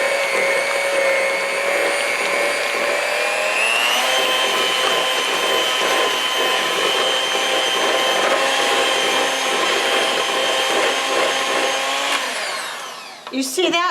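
An electric hand mixer whirs steadily as it beats softened cream cheese, a continuous high motor whine that shifts pitch slightly partway through and then cuts off near the end.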